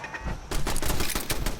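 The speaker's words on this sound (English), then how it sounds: "I'm starting to hear gunfire." Rapid gunfire from the video game Fallout 4 crackles in a dense burst of repeated shots, starting suddenly and continuing at a steady, moderately loud level with a low hum underneath.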